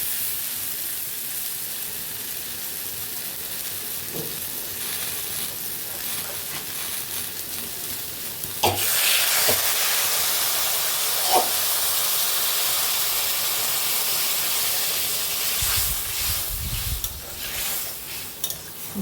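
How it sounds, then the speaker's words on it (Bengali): Water is poured into a pan of frying small fish being cooked with ridge gourd. A quiet fry gives way to a sudden loud burst of sizzling and hissing steam that goes on steadily, with stirring scrapes near the end and no talking. "এবারে ওর মধ্যে একটু জল অ্যাড করে দেবো"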